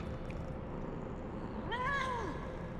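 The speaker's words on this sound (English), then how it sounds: "Cat?" A cat gives a single rising-then-falling meow lasting about half a second, moderately close and clear above a low background hiss.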